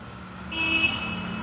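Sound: motorcycle horn

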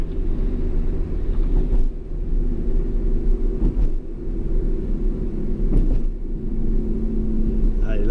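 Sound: car engine revving while accelerating onto road

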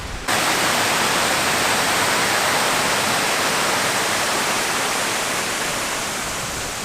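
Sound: stream water flowing

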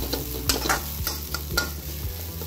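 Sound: tossing raw banana podimas in a pan

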